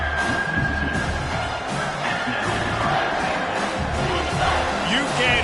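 A packed football stadium crowd roars at full volume on 3rd and goal, a constant wall of cheering and yelling that never lets up, with an announcer talking over it.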